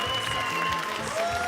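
Audience applause at an anime awards ceremony, a brief, steady burst of clapping from a seated crowd, fairly distant and even.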